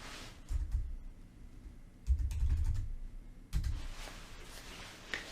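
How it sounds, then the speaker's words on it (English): Typing a keyword on a computer keyboard, in short bursts of close, quiet key clicks separated by brief pauses, with no talking. "If we type in a keyword"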